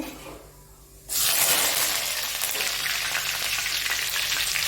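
Curry leaves, ginger and chili dropped into a hot pan with cumin for a fasting dish: after a second of near quiet, a sudden loud sizzle bursts out and keeps hissing steadily.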